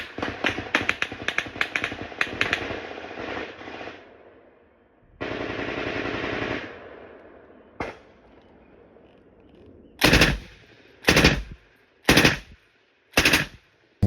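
A PKM machine gun and rifles exchange fire in a firefight: rapid bursts at first, a sustained stretch of fire, then several loud, sharp separate bursts near the end, with no speech.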